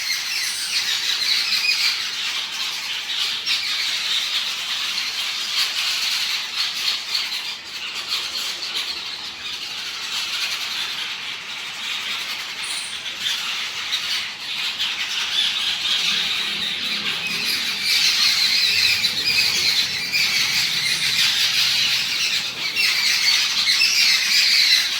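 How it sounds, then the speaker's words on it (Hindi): Many birds chirp and squawk continuously, a dense, bright chorus filling the whole stretch at steady loudness with no talking. "बहुत सारी चिड़ियों की चहचहाहट सुनाई पड़ रही थी, आप भी सुनिए।"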